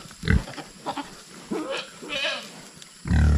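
A pig grunts and snorts up close in short irregular bursts, with a loud squealing grunt at the end.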